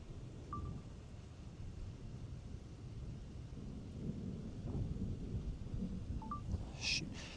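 Thunder from a lightning storm during a Kansas supercell with hail rolls as a steady low rumble across the whole stretch, loud and continuous, with rain and wind noise and a few faint high chirps.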